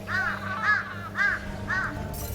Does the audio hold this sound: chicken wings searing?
no